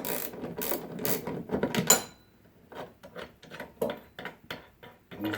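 Ratcheting wrench loosening the bolts that hold a garage door torsion spring onto its center bracket, with quick clicking bursts early on and then softer, spaced clicks and metallic turns.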